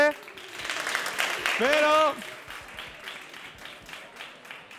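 A studio audience on a Spanish TV science quiz show gives a brief burst of applause that swells and fades over a couple of seconds, while a presenter talks over it.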